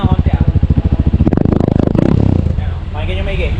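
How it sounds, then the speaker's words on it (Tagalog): A 2025 Honda CRF 150L motorcycle idles with a rapid, pulsing exhaust beat, then is revved up briefly and settles back down. It is loud and close through the muffler, with someone talking over it. "Ito naman yung tunog ng kanyang muffler."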